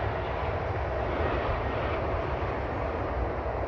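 A fixed-wing airplane passes near an airport in Texas, a steady broadband engine roar that stays loud and unbroken with no voices.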